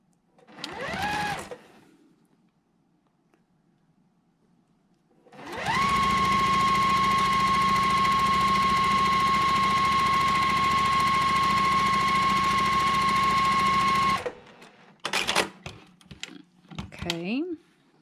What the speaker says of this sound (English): let's go ahead and sew that one without marking it